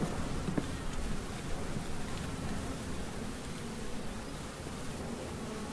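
Honeybees swarm around an open hive frame of brood and honey during queen raising, giving a continuous, soft, dense buzz that holds steady from start to finish without any talking.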